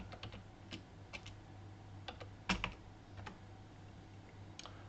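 Someone types a project name on a computer keyboard while setting up a TouchGFX project, with sparse, quiet keystrokes tapping in short irregular clusters against a low background hum.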